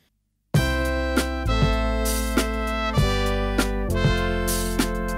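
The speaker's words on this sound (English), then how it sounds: "of course the MIDI sounds really controlled" MIDI computer playback of a three-piece horn section plays triadic voicings as bright sustained chords, each attack sharp and evenly timed in a rigid, mechanical rhythm after a brief silence at the start.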